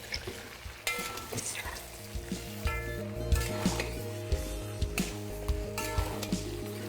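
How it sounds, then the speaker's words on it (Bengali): Mutton frying with browned onions as it is stirred, a steady sizzle broken by regular scraping and clattering strokes against the pot, fairly close and without speech. "আর মাটনটা দেওয়ার পরে এটাকে আপনাদের ভালো করে মিশিয়ে নিতে হবে।"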